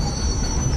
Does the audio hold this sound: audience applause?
no